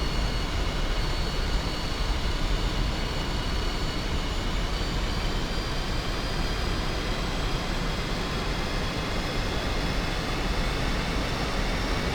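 Northrop F-5E jet engine in DCS World taxiing with the canopy open, a steady loud whining roar with high tonal lines holding constant throughout, no voices.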